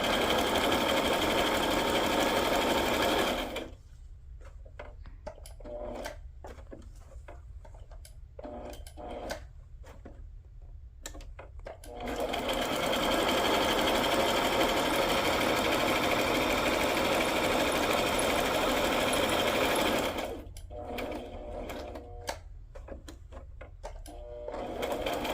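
A sewing machine stitching a zigzag on a hinged fabric tag runs in two long, loud, steady bursts with a short gap between them, then stops abruptly.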